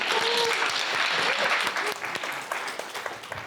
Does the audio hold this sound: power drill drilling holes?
no